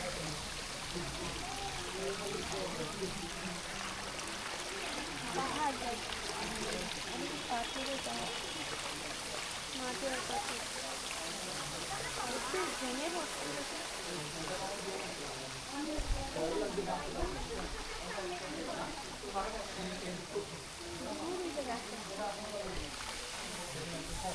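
A waterfall at Himchhari in Cox's Bazar rushes as a continuous broadband wash of falling water. The sound stays steady and fairly even throughout, with faint voices now and then in the background.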